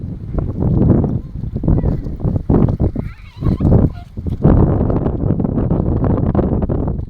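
Heavy typhoon wind buffeting the microphone in loud, rumbling gusts that continue almost without pause.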